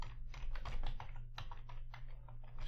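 Fast, steady clatter of computer keyboard typing as a short folder name is entered, close and fairly quiet over a constant low hum, with no talking.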